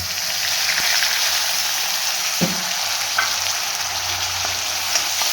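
Grated onion hitting hot oil already holding fried cumin and curry leaves, for Punjabi kadhi pakoda: a loud, dense, continuous frying sizzle close by, with a few light knocks of a spoon against the pan.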